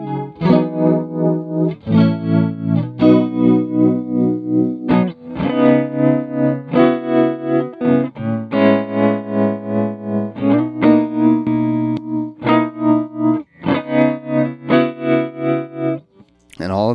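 An electric guitar plays chords and melodic lines through a Chase Bliss Audio Warped Vinyl vibrato chorus pedal, lush and wavering, loud and continuous with a brief pause near the end.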